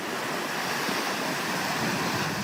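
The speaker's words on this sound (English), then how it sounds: "Colby Bayless was on the Spit Saturday when the waves were wreaking havoc." Heavy storm surf pounds the Homer Spit, a steady roar of breaking ocean waves with wind buffeting the microphone, continuous and loud throughout with no voices.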